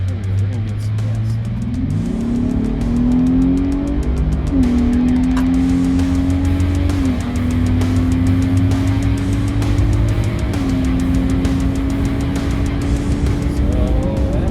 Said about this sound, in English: I'll give it a little gas so you guys can hear what it sounds like inside the truck.